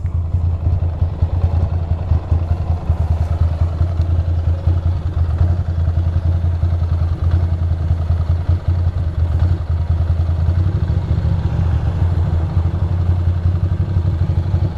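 A Ducati Monster 620 motorcycle engine runs steadily and loudly with a low, throbbing rumble and light mechanical clatter, continuous throughout with no talking.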